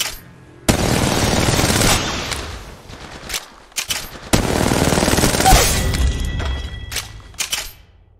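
Loud bursts of automatic gunfire in Apex Legends Mobile come in several separate volleys with brief quiet gaps, mixed with heavy booming impacts and clattering debris.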